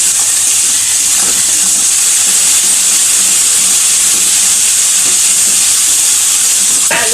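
A steady loud sizzle and hiss fill the pan as green chillies fry in a spice masala for a Bengali-style aloo paneer, with faint stirring scrapes underneath.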